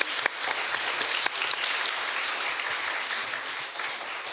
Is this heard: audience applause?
yes